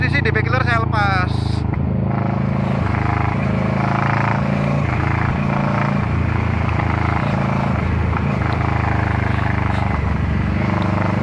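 A 2018 Kawasaki Versys 650 fitted with a Two Brothers exhaust, its dB killer removed, roars loud and continuous at close range, with a voice briefly over the start.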